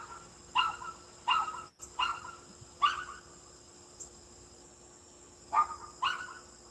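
A little puppy yaps outdoors in a series of sharp, moderately distant barks, spaced a second or so apart with a pause midway, over a steady insect drone in a natural setting.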